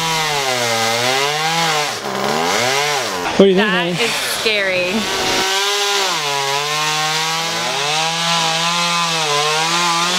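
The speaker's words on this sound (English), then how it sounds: "There's a guy up there, he's like using a chainsaw with one arm." A chainsaw, run one-handed by a worker up in a tree, drones loudly, its pitch rising and falling as it revs through wood, while people talk briefly over it.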